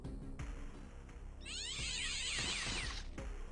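A cat meows in the X-piratez video game: a loud, drawn-out yowl with a harsh, screechy middle, heard alone over a dense layered game background.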